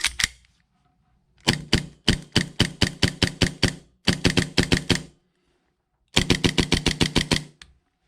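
Arcturus Vanguard airsoft rifle firing in three rapid full-auto bursts, each a crisp string of snappy, evenly spaced shots, close and loud, separated by short silences.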